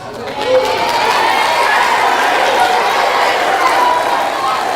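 Dense, steady applause from a school audience of eighth graders at a middle school presentation, a continuous wash of many hands clapping at full strength for several seconds.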